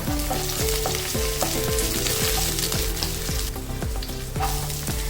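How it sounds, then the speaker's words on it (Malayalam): Green chillies and curry leaves frying in hot oil while being stirred, a loud continuous sizzle with repeated scraping strokes of a spoon against the pan, close up. "രണ്ട് പച്ചമുളകും ഇടാം ഇളക്കാം ഒരു തണ്ട് കറിവേപ്പില ഇടാം"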